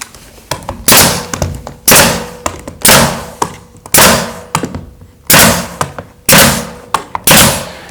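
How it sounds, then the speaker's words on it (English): A nail gun fires nails through beadboard into drywall for recessed wainscot: sharp, loud shots about once a second, each followed by a short hiss and softer clicks between them. "So I'll really stitch it up and put a nail every couple of inches."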